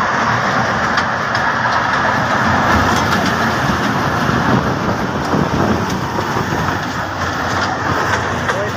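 A small amusement park ride train runs steadily with a continuous engine drone and rolling rumble, loud and close throughout, with occasional faint clicks and no talking.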